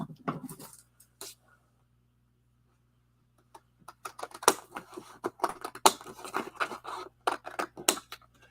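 Scissors snip through glitter cardstock while a luxury animal card kit is trimmed, with a short burst of cuts, a pause, then a steady run of close, crisp snips and crunches.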